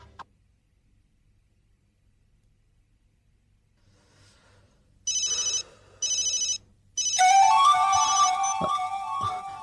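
A mobile phone rings after long near-silence, first with two short electronic trill bursts, then a louder sustained ringtone melody that continues to the end, close and clear with no talking.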